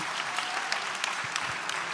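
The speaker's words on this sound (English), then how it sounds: "let's give her another round of applause" Applause at a women's policy roundtable luncheon, a steady, fairly distant patter of many hands with a few sharper individual claps standing out.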